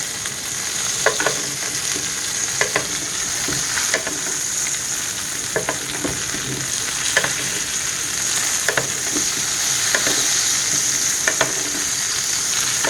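A Wagyu steak fries in butter in a skillet, a loud, steady sizzle with popping crackles and occasional scraping as the butter is spooned over the meat.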